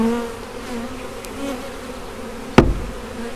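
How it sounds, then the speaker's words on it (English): Honey bees buzz steadily in a layered hum before a frame is dropped onto a hive box, giving one sharp thud near the end while the swarm keeps droning. "I'll shake this frame, or drop this frame on this box so all these bees fall off"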